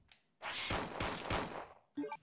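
Three gunshots in the 1998 Resident Evil 2, spaced sharp reports about a third of a second apart within a reverberant burst of sound, followed by a short clattering tail.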